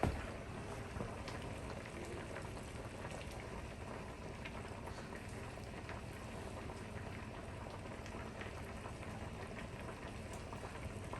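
A pressure cooker building up pressure, a faint steady bubbling and hissing simmer throughout, quiet and continuous with no talk.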